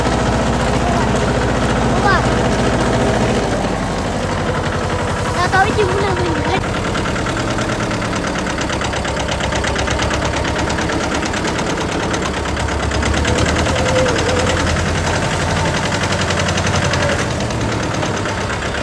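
A tractor engine runs steadily at a farm home after returning from the fields, its low rumble constant and near throughout, with occasional voices over it.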